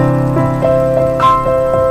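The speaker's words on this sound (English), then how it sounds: "It sounds like a major triad." A sustained major triad chord rings steadily with short plucked notes picked over it, close and clear, with no talking.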